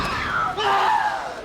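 A man's drawn-out, wavering scream from the 1996 horror film Scream, loud and close, rising sharply midway and held for over a second, with no talk around it.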